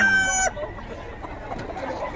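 Chickens and roosters at a fowl sale in Bocaue, Philippines: a rooster's crow rings out loud and close for about half a second, then gives way to a busy mix of clucking, shuffling and faint voices.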